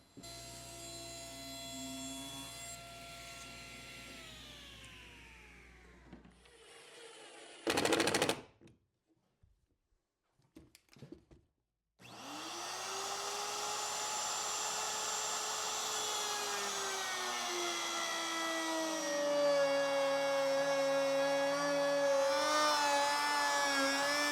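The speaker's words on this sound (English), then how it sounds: "I'll rip a piece of scrap wood at 2 3/4, keep it tight against the rail" Table saw ripping a piece of scrap wood for a cross cut sled, a loud sustained motor whine that winds down, a short burst and pause, then the blade spinning back up and cutting steadily.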